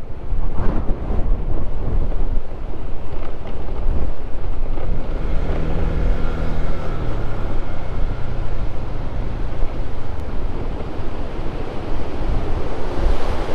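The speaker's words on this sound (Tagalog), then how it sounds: "Oh, sumisipo lang hangin," Strong wind roars steadily across the microphone during a ride along a steep, narrow mountain road in Nueva Vizcaya, a loud continuous rushing with no voices.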